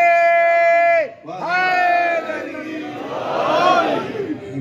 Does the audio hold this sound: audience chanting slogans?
yes